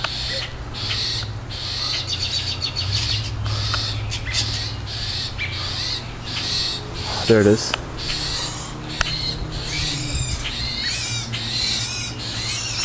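A black bird injured by a kitten's attack gives repeated harsh, squawking calls close by, over steady low background noise, with people talking at times.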